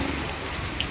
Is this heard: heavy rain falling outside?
yes